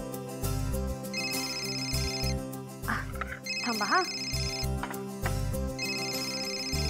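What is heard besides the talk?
phone ringing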